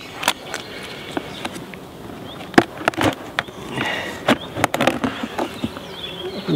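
Bees inside a nucleus box give a busy, steady buzz, with sharp knocks and rustles from the box being handled cutting in now and then.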